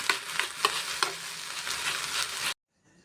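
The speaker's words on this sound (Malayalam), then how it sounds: "തേങ്ങ അരച്ചതും എല്ലാം ചേർത്ത് നല്ലവണ്ണം ഇളക്കിയതിന് ശേഷം 5 മിനിറ്റ് ലോ ഫ്ലെയിമിൽ ഒന്ന് വേവിച്ചെടുക്കാം." Ivy gourd thoran with ground coconut is stirred in a pan over a low flame, giving a steady sizzle broken by sharp scraping strokes, then a sudden cut to near silence.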